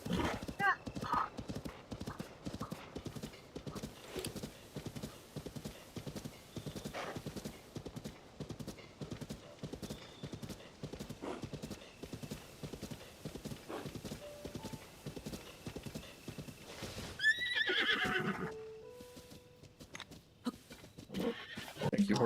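Horse in Tears of the Kingdom clip-clopping steadily at a walk for many seconds, then a clear whinnying neigh, with a person talking over the hoofbeats.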